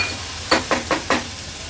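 Toor bean masala sizzling in hot oil as it is stirred, four short scraping sizzle bursts close up with a steady frying hiss beneath, no voices.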